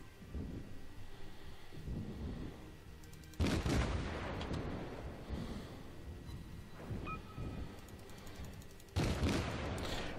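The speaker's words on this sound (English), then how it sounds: "So right now I can fire both of my guns, which is good." Warship main guns fire in World of Warships, heavy booming blasts with rumbling tails that roll out, three separated salvos spaced a few seconds apart, loud and close.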